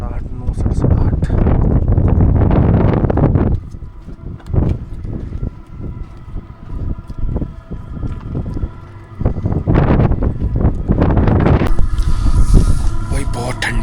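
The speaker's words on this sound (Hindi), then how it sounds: "भाई बहुत ठंडी हवा चल रही है बाहर" Strong, cold wind at -15°C buffets a microphone outdoors in loud, gusty bursts that rise and fall, with someone talking over the blustery roar.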